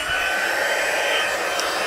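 A heat embossing tool blows hot air in a steady, loud, unbroken whoosh, close up and alone for the whole stretch, much like a hair dryer.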